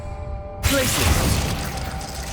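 The Glacius freezing spell in Hogwarts Legacy lands with a sudden icy crack and shattering burst, followed by a short crackling, rumbling tail.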